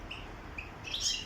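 Soft, fairly distant chirps from goldfinch hybrid birds kept indoors in a room during bitter cold weather, a few brief high calls over quiet background hiss.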